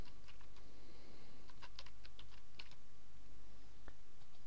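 Rapid clicking keystrokes on a computer keyboard as a username is entered, with bursts of close, light key taps and brief pauses over a steady background hiss, no talking.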